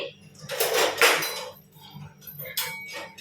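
A spoon clinks and scrapes against a bowl while hot milk is stirred into custard powder, with a few brisk bursts of clatter and short pauses between them, close by.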